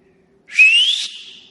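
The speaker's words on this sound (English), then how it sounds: "Boy, that is some whistle." A person whistles loudly once, a single piercing note about a second long that glides gradually upward in pitch, alone against near silence.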